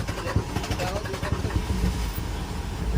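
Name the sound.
Mitsubishi 4M50 engine cranking, hard starting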